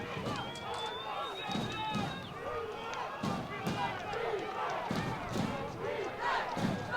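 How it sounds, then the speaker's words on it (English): A high school football crowd at a night playoff game chanting "defense" in rhythmic, repeated bursts, under a commentator talking over the stadium noise. "Warrior crowd is really calling defense"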